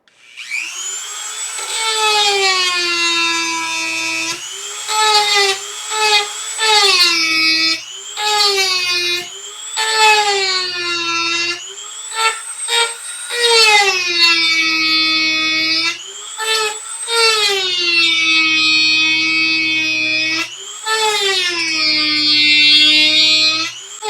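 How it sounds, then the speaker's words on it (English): A Dremel rotary tool grinds black epoxy off a Dallas DS12778 chip, giving a loud, close, high-pitched whine whose pitch repeatedly dips and rises as the bit loads and frees up, with brief breaks throughout. "Lots of black epoxy residue on this Dremel bit."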